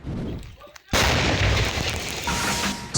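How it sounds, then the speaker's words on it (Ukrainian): A single heavy 122 mm artillery blast erupts suddenly, loud and booming, followed by a rumbling wash of noise that lingers as it fades. "Та зрештою лунає команда здійснити постріл."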